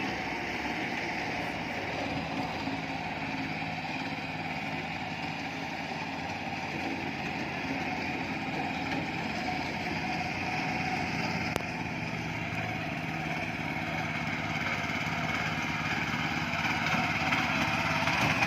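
A power tiller engine runs steadily during a field test in farmland, a continuous rough drone that holds an even level throughout with no talking.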